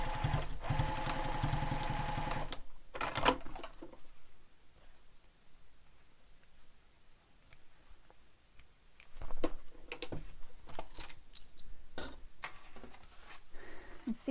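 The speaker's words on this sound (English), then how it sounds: "Now we're going to baste this down" A sewing machine bastes down a pleat on a backpack pocket in a short loud burst at the start, followed by quieter handling clicks and light taps with scattered ticking.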